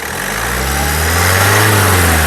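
A 2017 Ford EcoSport Titanium engine revs up close and loud, its pitch climbing steadily from idle into a sustained roar.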